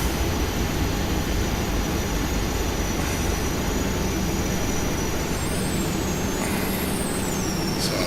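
Airliner jet engines idling on the ground in the Prepar3D flight simulator, a steady loud broadband roar with a constant whine, joined near the end by rising and falling high-pitched tones as the engines begin to wind down.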